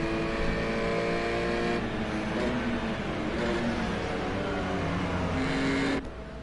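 GT4 race cars circulating in lap traffic on the Daytona road course in a racing video game, a steady loud engine drone with shifting revving tones, easing off abruptly near the end.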